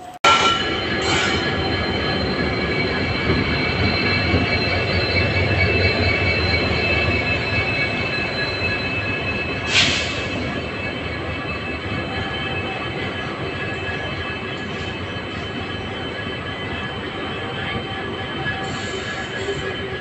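The Silchar Express, train 12515, rolls into Badarpur station in northeast India with a sustained loud rumble and high, piercing wheel squeal on the rails, steady for the whole stretch, heard up close with no voices.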